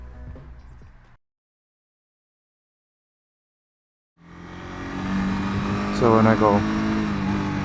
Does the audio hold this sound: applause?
no